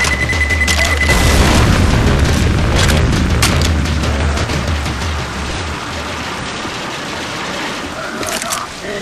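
A bomb explodes in Left 4 Dead 2 on The Passing riverbank level, a loud deep boom with a long rumbling decay and scattered debris crackle fading over several seconds.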